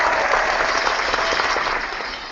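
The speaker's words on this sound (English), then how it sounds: "Let's give ourselves a round of applause for that." A burst of clapping from a small group, steady and fairly loud for a couple of seconds, no voices.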